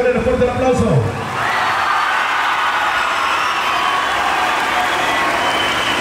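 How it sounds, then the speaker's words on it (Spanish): Audience applause at a tournament final vote in a Spanish-speaking event, sustained steady clapping from a crowd after a brief spoken announcement, filling the rest of the clip at an even level. "Si usted quiere que pase a la final Rancho La Revolución, regálele fuerte el aplauso."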